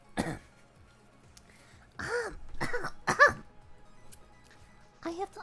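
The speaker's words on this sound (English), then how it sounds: "If I clear my throat, it'll happen." A few rough throat clears from a streamer, short raspy bursts separated by quiet gaps, close to the microphone, with bits of voice mixed in.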